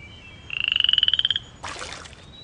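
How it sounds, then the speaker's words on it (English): A frog croaks from a pond in a fast, rising rattle of about a dozen pulses lasting roughly a second, followed by a short breathy rustle; the call is fairly close and clear, with no talking. "There's a frog in the pond,"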